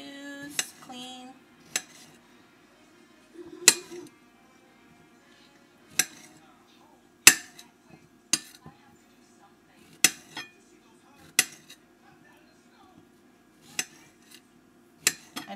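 A serrated bread knife cuts through fresh strawberries on a board, giving about a dozen sharp clicks and taps spaced roughly a second apart, close and clear, with a low steady hum underneath.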